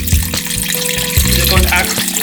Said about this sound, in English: add the water in now. Okay. So we're gonna add like just a little bit over. First of all, you cover all your carrots.